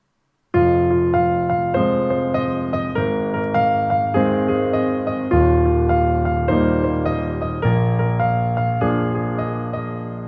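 A sequence of sustained piano chords, held with the sustain pedal and ringing into one another, each new chord struck about once a second and blurring with the last, played alone.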